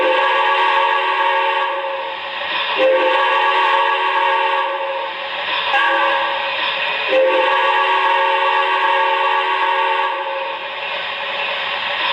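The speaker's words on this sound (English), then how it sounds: "So first up, let's hear the standard whistle." MTH model train standard whistle on a New York Central 20th Century Limited streamlined engine, sounding a series of long, loud, steady chime-like blasts with short breaks between them, close and alone with no talk.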